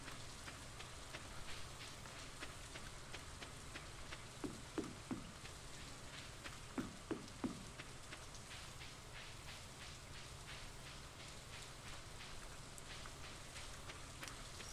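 Steady rain from the Stardew Valley video game, a soft continuous hiss filling the background with a few faint tonal blips in the middle and no talking.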